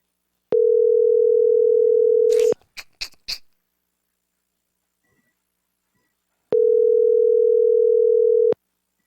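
Telephone ringback tone on an unanswered call: two long, steady, loud rings separated by a pause of several seconds, with a few brief clicks just after the first ring.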